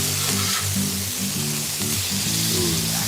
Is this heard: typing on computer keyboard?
no